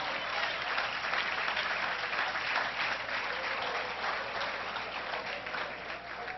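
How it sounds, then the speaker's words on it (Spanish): A church congregation breaks into sustained applause, a dense even wash of many hands clapping together, heard from a slight distance and steady throughout before tapering slightly at the end. "Denle un aplauso al Señor, ya que le gustó tanto."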